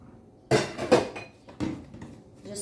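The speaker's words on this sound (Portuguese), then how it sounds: "Dissolvo logo o leite em pó no leite condensado, que fica mais fácil." Milk powder being stirred into condensed milk with a spoon: a few short clinking, scraping knocks against the bowl, close and fairly quiet, with brief pauses between strokes.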